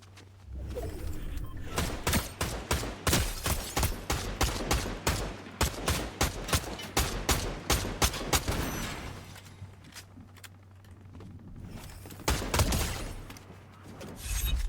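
Weapon fire in Fortnite rattles off in rapid, loud bursts of shots for several seconds, pauses briefly, then resumes with a few more close, sharp reports near the end.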